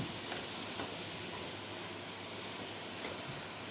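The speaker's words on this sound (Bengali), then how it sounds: "এই তো আমি সুন্দর করে নেড়ে দিচ্ছি" Bitter gourd dal being stirred in a pot, giving a steady, soft sizzling hiss with faint scraping that runs evenly and alone throughout.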